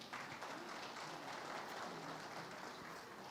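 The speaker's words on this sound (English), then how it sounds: "Let's give them a huge round of applause" A crowd applauds the sponsors at the IGAD Media Awards 2025, a steady, dense wash of clapping held at an even level throughout, somewhat distant and quiet.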